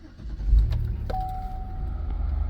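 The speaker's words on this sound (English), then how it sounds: "Now you want to start the minivan." A Chevy Uplander or Pontiac Montana minivan cranks briefly and then catches to a low steady idle, heard from close by with a faint thin whine laid over it.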